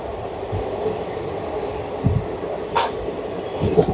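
The Black Diamond express train from Kolkata pulls into Sheoraphuli station, heard from on board as a steady rolling rumble with a few brief sharp squeals and hisses near the end, with no talking.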